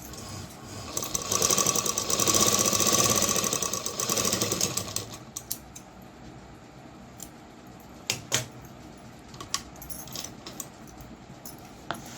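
A sewing machine stitching a folded saree border runs in a loud, continuous mechanical whir for a few seconds, then stops, leaving scattered clicks and small handling knocks of fabric and the machine, close by, with no voices.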